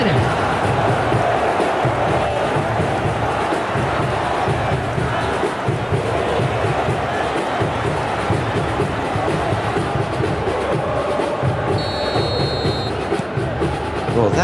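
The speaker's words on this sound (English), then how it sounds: "The crowd are calling for this to be put to bed." A football stadium crowd in a match between Indonesia and Fulham chants and roars continuously, a loud dense wall of voices that holds steady throughout.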